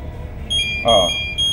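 A high electronic alarm tone beeps in short repeated bursts up close, with a brief spoken word overlapping in the middle.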